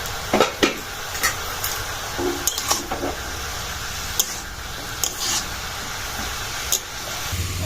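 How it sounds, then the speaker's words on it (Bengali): Vegetables for vegetable chops being stirred in a pan after the lid comes off, a soft sizzle broken by repeated scraping and clinking of a spoon against metal at irregular intervals, close up, no voices. "ঢাকাটা খুলে নেড়ে নিচ্ছি"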